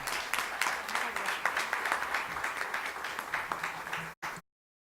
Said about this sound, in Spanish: Recibámoslas con un aplauso, por favor.